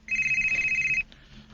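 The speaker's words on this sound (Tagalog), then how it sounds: "Di man deron akong cellphone di ay." A cellphone rings loudly for about a second in a boarding house, a steady electronic ringtone that cuts off abruptly, leaving faint room noise.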